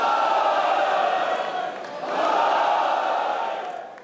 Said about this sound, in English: Parliamentarians cheering Japanese Speaker's announcement of dissolving the House.